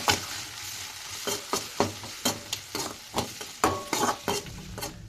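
Chillies and finely chopped tomato sizzle in a pan while a spoon stirs them in repeated scraping strokes, a steady frying hiss under roughly a dozen rhythmic stirs, no talking.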